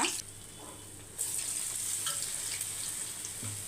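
Vegetable vada batter sizzling in hot oil on a low flame, a steady close frying hiss that swells after the first second and carries on, with no talk over it.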